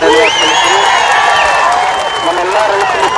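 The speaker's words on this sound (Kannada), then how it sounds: "ಜೋರಾಗಿ ಚಪ್ಪಾಳೆ ಮೂಲಕ" Loud, continuous applause and cheering from a crowd at a farmers' association meeting, a dense wash of clapping mixed with voices throughout.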